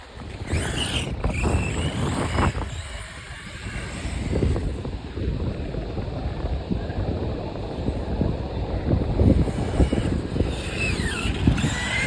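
An RC stunt truck, the Team Corally Jambo, drives across sand outdoors, its motor whine blending with heavy wind noise in a continuous rush that swells slightly midway.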